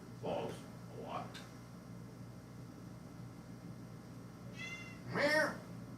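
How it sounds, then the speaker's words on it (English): A house cat meows several times at moderate distance: two short calls near the start, then a longer, louder meow toward the end, over a quiet, hissy room background. "Meow."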